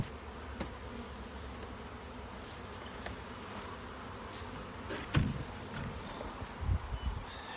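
Honeybees buzzing around a sizable hive during the nectar flow, a faint steady outdoor drone with a few louder passes of individual bees close by.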